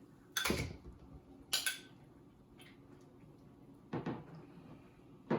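Softened cream cheese, half a cup, goes into a mixing bowl for vanilla cream cheese icing: a few separate, fairly crisp clinks and knocks of a utensil against the bowl with quiet gaps between them.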